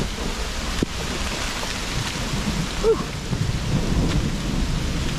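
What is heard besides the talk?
heavy rain and thunder on the Appalachian Trail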